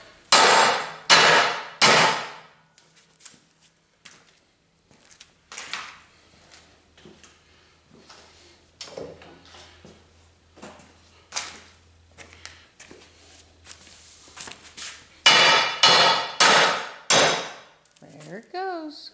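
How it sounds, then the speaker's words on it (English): Hammer blows on a brass punch driving a stuck crankshaft out of an Ingersoll Rand compressor: bursts of sharp metallic strikes in quick clusters, loud and close, separated by quieter pauses and a few softer knocks. "I tried driving out with the hammer of brass punch,"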